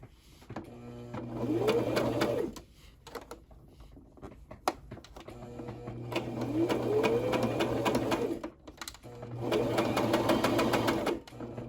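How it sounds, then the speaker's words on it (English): A sewing machine stitches down the seam of a pair of pants being turned into a skirt. It runs in three steady, close bursts separated by short pauses with soft handling noises. "I'm gonna sew all the way down now"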